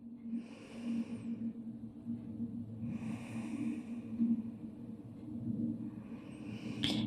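Slow, deep breaths during gentle morning hatha yoga, long airy exhales and inhales heard close up, roughly three unhurried cycles with no speech.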